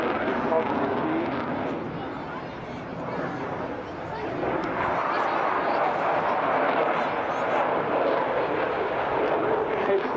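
An RAF Typhoon FGR4 jet roars through an air show display, a broad, sustained distant engine rumble swelling and easing over ten seconds, with a commentator talking over it.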